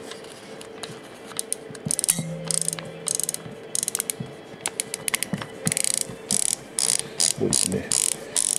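Film is wound by hand in a Konica Pearl III folding camera, giving a run of close, crisp ratcheting clicks in uneven bursts, growing busier later, with a person briefly speaking over it.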